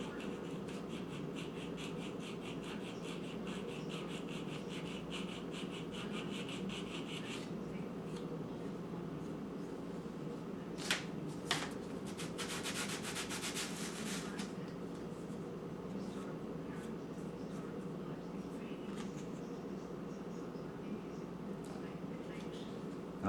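Fine-grit finishing side of a sanding tool rubbing the rough edge of a small N scale model building, a steady soft scratchy rasp running throughout, with a couple of sharp clicks midway.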